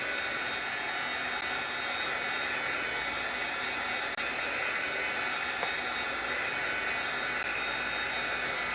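A hair dryer blows a steady, loud whooshing hum to dry stamping ink on acetate, running continuously at one level with no talk over it.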